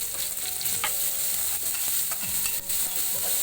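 Onion sizzles and fries steadily in a pan after garlic and green chilli have gone in, with repeated scraping stirs from a spoon against the pan, close and continuous and with no talking.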